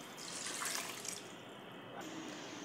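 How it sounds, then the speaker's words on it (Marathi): Hot water poured from a vessel onto two cups of rice in a pressure cooker for a chicken pulao, a steady close splashing pour that eases off partway through. "गरम पाणी टाकायचं."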